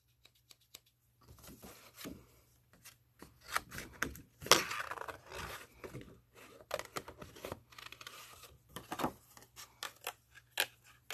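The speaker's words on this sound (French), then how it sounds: "I will be fussy cutting hearts. Avec mes nouveaux ciseaux de Tim." Close, crisp snipping of scissors through paper, fussy cutting hearts, a run of short irregular cuts with small pauses, alone without talk.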